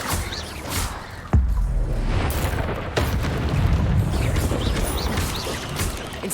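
Incendio fire spell cast during combat in the game Hogwarts Legacy: a sudden whooshing burst of flame with a heavy boom, then a rumbling roar of fire and battle noise that stays loud.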